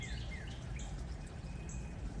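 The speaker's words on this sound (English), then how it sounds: "Hear the titmouse?" A titmouse sings outdoors in a bird garden in the morning, giving faint, high, brief chirps and whistled phrases over a constant low rumble of background noise.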